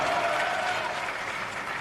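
A crowd at an outdoor political rally claps in a brief, dense burst of steady applause that stays at an even level throughout.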